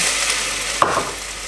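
Steady sizzling of vegetables frying in a hot pan, with a sudden brief splash and burst of hissing as a glass of wine hits it.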